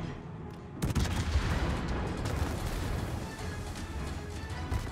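Naval guns on a warship fire in a video game, a sudden loud blast followed by continuous dense rumbling gunfire and booms, close and heavy, with no speech over it.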